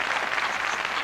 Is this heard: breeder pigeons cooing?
no